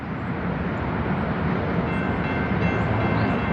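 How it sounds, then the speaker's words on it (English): A train passing nearby, a loud, steady rumble and roar of rolling rail cars that holds throughout, with no talking. "We got a train coming, man."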